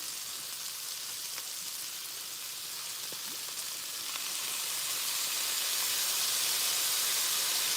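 Food frying with sesame oil and soy sauce in a hot pan, making a steady broadband sizzle and hiss that swells slightly louder toward the end, with no talking.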